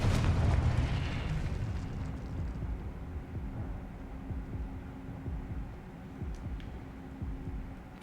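A Confringo explosion spell in a video game, a deep booming blast at the start that settles into a long low rumble and hum, fading gradually over several seconds.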